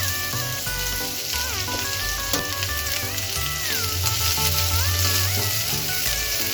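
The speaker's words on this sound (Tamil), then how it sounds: "ஹை ஃப்ளேம்லேயே வச்சு நல்லா ஃப்ரை பண்ணி விடுங்க." Vegetables and spring onion stir-fry over a high flame for veg American chop suey, a dense, steady crackling sizzle, close and loud, with a tonal hum running underneath.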